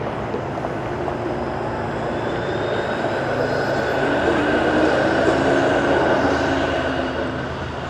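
Streetcar rumbling past on a very busy city street, a loud continuous roar of rail and traffic noise that swells toward the middle and eases off near the end.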